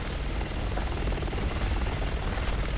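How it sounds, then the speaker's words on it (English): A helicopter in the video game Resident Evil 6 produces a steady, loud rotor and engine drone that continues evenly throughout, with no talk over it. "Where's the helicopter?"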